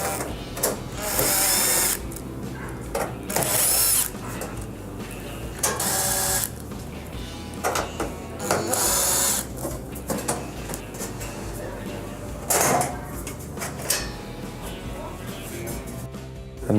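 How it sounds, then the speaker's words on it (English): A power drill backs out the four quarter-inch screws on the rear access panel of a GE electric stove, running in several loud, short whirring bursts separated by pauses. "you're going to remove the 4 1/4 inch screws here on the back panel to remove this access panel"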